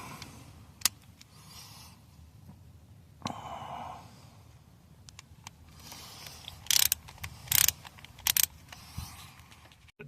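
A ratchet tightens a spark plug on a 2004 Honda Accord: scattered faint mechanical clicks, then a few short, sharp bursts of ratcheting close by near the end, with no talk.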